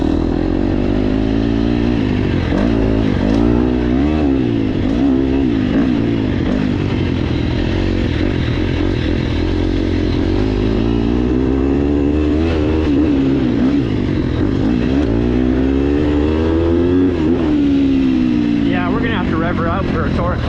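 A KTM 250SX-F four-stroke dirt bike engine revs loudly and continuously while being ridden, its pitch rising and falling through repeated throttle sweeps for the whole stretch, up close and with no break.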